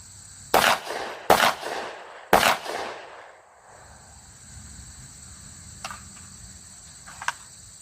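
Three sharp, loud FN 510T 10mm pistol shots at a practice range, a quick double tap followed by a single shot, each with a short echoing tail, then faint insect-like buzzing and small clicks in a quiet background.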